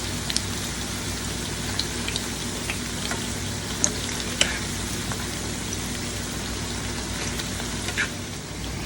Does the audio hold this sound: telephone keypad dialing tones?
no